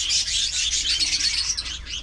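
Many small cage birds, parakeets and African lovebirds in an aviary, chirping continuously in a dense, high-pitched chorus close by with no talking.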